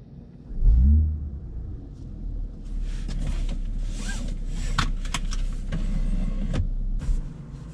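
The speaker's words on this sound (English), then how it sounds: "Let's go for a little drive and see what this car's like." A BMW M440i Coupe rumbles into life with a loud low surge, then settles into a steady engine drone with faint clicks and rustles inside the cabin as it pulls away.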